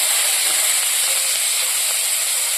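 Chopped onions hit hot oil in a pan just used for frying fish belly pieces, producing a loud, continuous, hissing sizzle that holds steady from start to finish with no speech over it.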